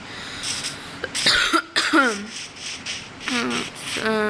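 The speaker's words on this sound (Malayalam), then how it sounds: "ചെറുതായിട്ടൊന്ന് ചുമയും ജലദോഷം കാര്യങ്ങളൊക്കെ ഉണ്ട്" Short coughing and throat-clearing sounds break up a man's speech, close and moderately loud, during home construction work on a house built with a frame.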